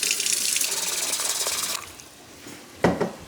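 Hot water running from a kitchen tap for dinner rolls: a steady hissing stream that stops after almost two seconds, followed by quieter handling noise and a brief clunk or splash.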